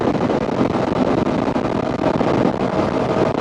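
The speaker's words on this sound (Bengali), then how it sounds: "বাতাস মনে হচ্ছে হ্যান্ডেল ছাড়িয়ে নিয়ে যাচ্ছে" Strong wind buffets a motorcycle riding fast along a four-lane highway in Rangpur and Dinajpur, making a constant, loud, close roar of rushing air with no break.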